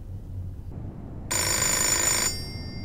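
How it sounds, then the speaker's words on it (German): A telephone in the game Fahrenheit: Indigo Prophecy rings once with a bright, loud bell tone that lasts about a second and sits over quiet ambience. "Telefon."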